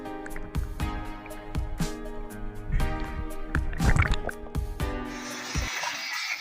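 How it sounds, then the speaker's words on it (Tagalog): Oars or a paddle stroke through the water from a small fishing boat, giving repeated splashing knocks and drips at a steady rhythm, with creaks and clatter from the hull, then tapering into a quieter wash at the end. "Sagwan tayo mga master."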